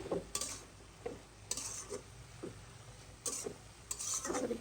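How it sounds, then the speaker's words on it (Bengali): Red amaranth leaves get stirred in a pan, a spatula scraping and knocking in irregular bursts over a low sizzle, fairly quiet and close. "লাল শাকটা দিয়ে দিয়েছি এখন নাড়বো"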